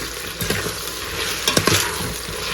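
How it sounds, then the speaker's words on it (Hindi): Mixed vegetables with potato and onion shallow fry in a pan, a steady close sizzle with a few scraping stirs of a spatula and no talking. "अच्छे से मिक्स करना है, शैलो फ्राई करना है, ज्यादा डीप फ्राई नहीं करना है"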